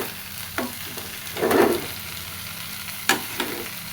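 A turmeric mixture frying in a pan gives off a soft, steady sizzle, with a few louder bursts where it is stirred, and no talking.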